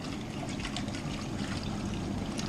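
Water pours and splashes steadily into a small mini washing machine tub, a continuous close rushing trickle with no break.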